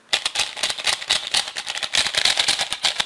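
A Moyu Huanying speed cube being turned rapidly, producing dense, loud clicking and clacking like a typewriter, a continuous rapid rattle close to the microphone.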